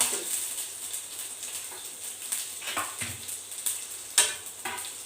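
Cumin and garlic frying in hot oil in a pan, a continuous soft sizzle with scattered crackles and a few spoon scrapes and stirs against the pan.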